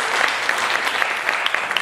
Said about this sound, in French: Applaudissez pour vous-même pour cela.